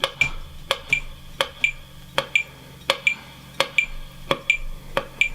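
Sharp, bright plucked guitar strikes in a steady, syncopated sixteenth-note pattern, each note ringing briefly with a metallic, clinking edge, close and clear with no talking.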